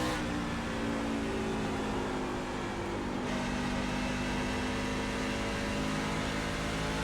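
Truck engine in the iRacing sim at Rockingham Speedway, droning steadily with layered tonal engine harmonics and a slight shift partway through as the throttle is held on; no talking.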